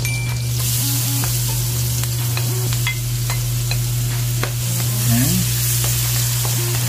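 Onion sautés in a pan for home-made chicken Alfredo, giving a steady, close sizzle throughout with a low hum beneath and scattered light clicks and scrapes from stirring.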